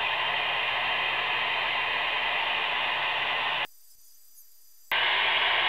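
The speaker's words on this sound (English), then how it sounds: "This right now is just static." Steady hissing static from a radio receiver tuned while waiting for a repeater carrier, loud and continuous, broken by about a second of near-silence before the hiss returns.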